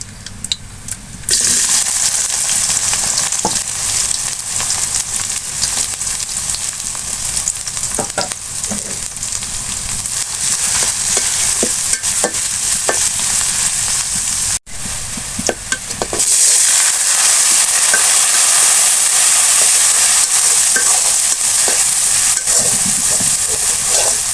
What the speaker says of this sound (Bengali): এই গোটা গরম মশলাগুলো আমি এই তেলের ভিতরে দিয়ে দিব তাহলে তেলের ফ্লেভারটা খুবই ভালো আসবে দিয়ে দেবো পেঁয়াজ কুচি